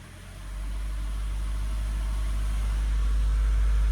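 A Mazda 3 engine with an underboost fault rises from idle to about 1500 RPM, a steady deep droning hum that swells in the first half second and then holds close and even.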